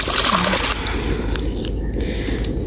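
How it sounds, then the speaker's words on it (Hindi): Water splashing and running as a freshly picked carrot from a home farm field is rinsed, a loud close gushing and sloshing that eases after the first moment into quieter trickling and drips. "तो ये धोते हैं और देखते हैं कितनी मज़े की है"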